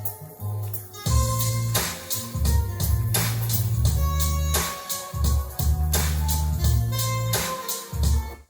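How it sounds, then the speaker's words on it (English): Looping hip-hop beat with punchy drums and a heavy repeating bassline, loud and steady with brief drop-outs between patterns, no voices. "so you can hear what it sounds like with the drums and the bass"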